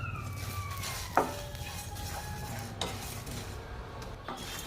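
White sesame seeds and peeled garlic roasting in a pan on low flame, a quiet continuous rustling sizzle punctuated by a few sharp metallic taps and scrapes of a spoon against the pan.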